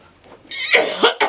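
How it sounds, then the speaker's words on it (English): An elderly woman with running sinuses gives a short, close, rasping cough in a couple of harsh bursts, loud and alone. "It gives me a chance to cough because my sinuses are running"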